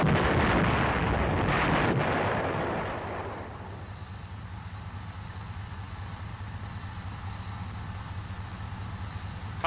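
An M551 Sheridan armored reconnaissance vehicle's gun fires a loud, booming shot that rumbles and then decays into a long, steady low roar of wind and engine noise.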